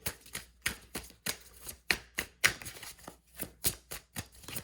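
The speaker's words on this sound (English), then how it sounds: "And we're going to shuffle more" A deck of tarot cards is shuffled by hand in a rhythmic series of about a dozen quick riffling bursts, close and fairly quiet with short pauses between them, and no talk.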